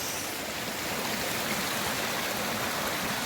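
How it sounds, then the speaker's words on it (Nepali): A village stream flows steadily, a soft, even rush of water heard close and alone, with no voices. "यो खोला हो स्टेको खोला"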